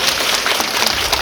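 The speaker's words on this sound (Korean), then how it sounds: "감독님 다시 한번 큰 박수." Dense, steady applause from a theater audience for a film director at a screening Q&A, loud and continuous throughout with no talking.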